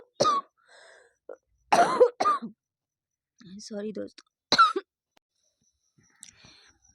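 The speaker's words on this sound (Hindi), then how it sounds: "तो खांसी थोड़ा सा प्रॉब्लम कर रहा है" A man coughing while giving a Hindi literature lesson, a few sharp, close coughs and hiccup-like bursts scattered between short stretches of his speech.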